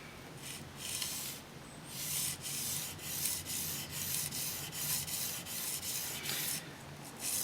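A Mizuno kitchen knife with a thin edge is sharpened on a 1000 grit whetstone, giving steady rhythmic rubbing strokes that repeat close up and evenly for several seconds.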